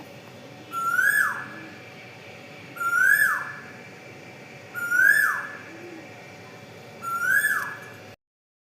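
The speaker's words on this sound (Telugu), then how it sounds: "ఈ కోయిల్ అయితే భలే అరుస్తూ ఉంది" An Asian koel calls near a house, repeating a rising whistled note four times at steady two-second intervals, loud and clear over a soft outdoor background.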